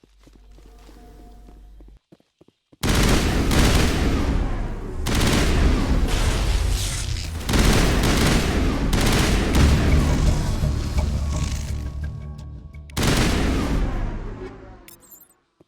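Gunfire in Mass Effect comes in loud, dense bursts, several long volleys separated by brief gaps after a quieter opening, with clattering impacts in between.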